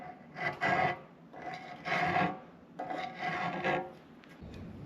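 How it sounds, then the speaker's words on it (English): A metal file rasps across a cast iron planer casting to knock off a burr, in three steady back-and-forth strokes, close and fairly quiet, with no talking. "I don't want to drag the file all the way across this opening. I just want to get rid of the burr."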